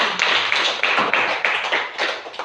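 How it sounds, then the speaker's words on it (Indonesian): A classroom of children claps hands for a classmate, a quick ragged burst of close, overlapping claps lasting a couple of seconds. "Tepuk tangan untuk Nocin."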